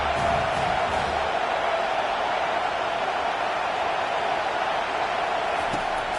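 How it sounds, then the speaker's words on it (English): A college football stadium crowd at a playoff game roars steadily on third and long, a dense, loud wall of cheering and noise that holds for several seconds with no clear voices on top. "Here comes the crowd trying to make it tough on third and long."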